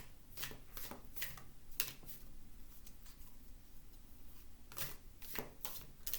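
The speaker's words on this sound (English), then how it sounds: "I'm going to keep shuffling for a few minutes." Tarot cards shuffled by hand in a quiet room, a run of crisp riffling bursts and soft slaps, several in quick succession, then a pause and more shuffling, close and fairly faint.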